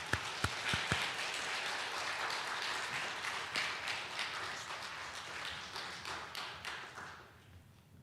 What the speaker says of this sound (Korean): 하나님의 영광의 박수로 우리가 맞이하도록 하겠습니다